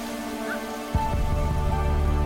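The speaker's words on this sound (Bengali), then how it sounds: "কালাহারি বেসিনের এক কোণে গ্রীষ্মকালের জীবনদায়ী বৃষ্টি দেখা দিয়েছে" Summer rain falling in the Kalahari basin, starting as a steady hiss and then turning denser with soft pattering drops on the ground, fairly loud and continuous with no voices.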